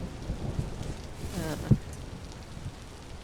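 A thunderstorm in the survival game Vintage Story: steady rain hiss with a rolling rumble of thunder and one sharp crack of lightning, no talking.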